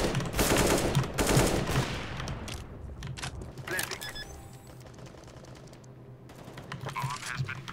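Rapid gunfire from the video game CS:GO, including an MAG-7 style weapon, a dense burst of shots that thins into scattered pops and clicks, heard close alongside voices talking and laughing.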